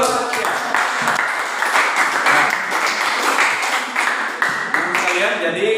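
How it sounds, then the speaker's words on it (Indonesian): Classroom applause from students in a lesson on social conflict, a steady patter of many hands lasting the whole stretch with some talking mixed in. "Tepuk tangan dulu."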